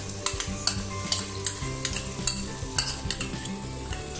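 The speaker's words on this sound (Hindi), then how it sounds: "अब इसको हम लोग अच्छे से थोड़ी देर फ्राई करेंगे ताकि अच्छे से भून जाए" Ginger garlic paste fries in a pan over already fried onions for chicken masala, a steady sizzle broken by regular scraping strokes of a spoon stirring, close and clear with no talk.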